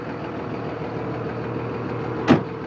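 A Dodge Ram 2nd Gen diesel pickup with a six-speed idles steadily at close range, a low continuous rumble running throughout, interrupted by one brief sharp knock near the end.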